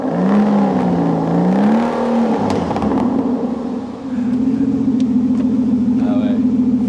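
An Aston Martin V12 Vantage Roadster's V12 engine runs and revs close by, with a wavering pitch through the first seconds, a short dip, then a steady, loud, higher idle hum.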